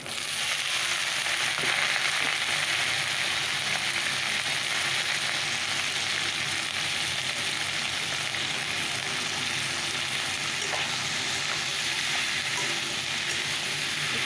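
Bottle gourd frying in a pan after a green chili tempering gives a steady, loud, continuous sizzle with faint stirring scrapes throughout, no voices.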